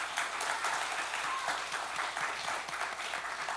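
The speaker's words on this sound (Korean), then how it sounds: "우리 박수로 환영하시겠습니다" A church congregation gathered for Pentecost Sunday worship claps to welcome newcomers, a full room of steady applause that carries at an even level through the whole clip.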